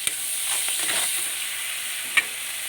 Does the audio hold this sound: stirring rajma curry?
yes